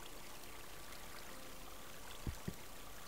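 Flowing water in Minecraft, a steady soft stream-like wash running throughout, with two brief low thumps near the end.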